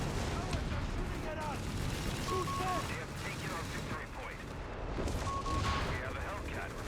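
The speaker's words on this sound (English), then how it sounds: "More Vespa barrages coming in" Vespa artillery barrage in Company of Heroes 3, a rumbling stream of booms and gunfire at steady loudness beneath a game mix, with a voice commentating over it.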